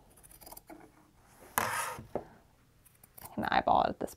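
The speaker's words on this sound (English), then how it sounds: "I'm just gonna cut one at a time. I'm just gonna cut straight across here." Scissors cut sweater fabric straight across along a quilting ruler, a close, soft crunching snip followed by a few short rasping cuts, with someone speaking quietly between them.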